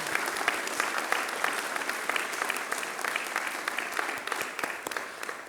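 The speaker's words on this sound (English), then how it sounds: "join me as we collectively celebrate their remarkable achievements with a well-deserved and enthusiastic round of applause" Audience applause at a university research awards ceremony, a steady dense wash of many hands clapping, moderately distant and sustained without a break throughout.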